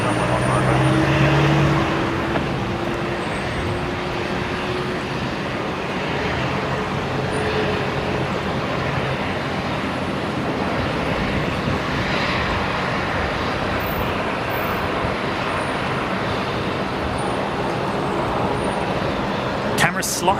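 An airliner lands on runway 19 left at Brisbane Airport, a broad steady roar of engines and rushing air heard from a distance, continuous for about twenty seconds.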